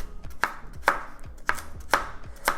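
A knife chopping carrots on a cutting board, five crisp, evenly spaced knocks about half a second apart, close and clear with no voices.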